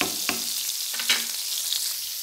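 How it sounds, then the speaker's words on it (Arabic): Butter and margarine melting in a pan for chicken breast, a steady close sizzle and crackle with a couple of soft stirring knocks. "شويه تاع زبده هنايا، شويه مارغرين نذوبها"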